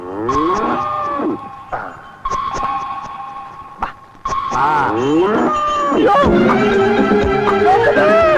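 A cow moos loudly several times in long, drawn-out calls, with other animal-like bellows overlapping toward the end.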